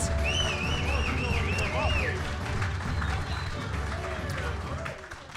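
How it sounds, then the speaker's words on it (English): Applause from a live audience at a club event with Packers quarterback Jordan Love, steady clapping mixed with crowd noise and whistles, overlapped by loud speech and cheering voices. "A big round of applause for Jordan and Julie tonight."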